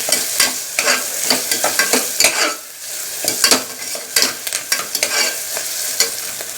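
Green chili and curry leaves are stirred in a hot frying pan: repeated scraping strokes of a spatula over a loud, close sizzle, irregular in rhythm, with no one speaking.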